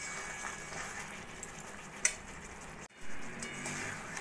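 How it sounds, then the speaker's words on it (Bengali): Mango pieces stirred and cooked in a pan for mango pickle give a steady soft sizzle, with a light clink of the spoon and a brief scrape of stirring. "এইভাবে নাড়া দিয়ে যতক্ষণ না আমের কালারগুলো চেঞ্জ হয়ে যাচ্ছে ততক্ষণ আমি রান্না করে নেব"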